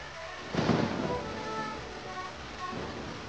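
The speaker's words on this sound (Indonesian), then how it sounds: "Kalau hujan gini" Steady heavy rain pours throughout with a low rumble of thunder swelling near the start and again toward the end, a constant dense wash with no voices.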